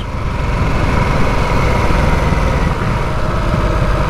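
A Harley-Davidson Nightster motorcycle engine runs at a steady, loud drone around 3000 rpm, a dense low rumble that holds without pause throughout, close to the microphone and with no voices.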